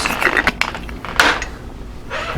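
An onion being chopped with a knife on a board for sausage and peppers: a few quick, sharp, close knocks, some in pairs, with a brief pause between groups.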